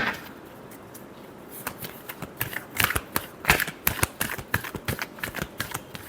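A deck of tarot cards shuffled by hand, starting quiet and building into a rapid run of close, crisp riffling flicks and slaps, with no talking.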